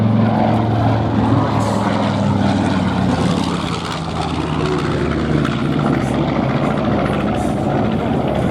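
The piston engines and propellers of a B-25 bomber in flight at the 2019 New York Airshow give a loud, continuous, throbbing roar from close by, with no break throughout.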